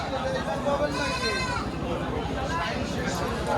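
Several goats bleat over a busy crowd at a goat market in Natore, Bangladesh, wavering cries rising above steady chatter and murmuring voices nearby.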